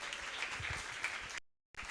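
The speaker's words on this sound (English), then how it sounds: "let's give her another round of applause." Applause from a convention audience fills the room with steady, dense clapping, then cuts to silence for a moment before resuming.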